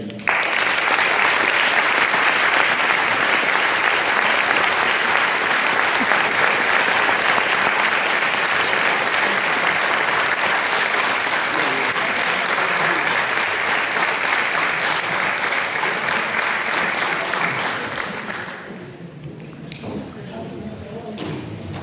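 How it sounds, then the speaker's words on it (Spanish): Sustained, loud audience applause at an award ceremony presenting a golden bagpipe in Mieres, a thick, even roar of clapping for about eighteen seconds that then thins quickly to a few scattered claps. "Gracias a todos por estar aquí hoy y un aplauso para ellos."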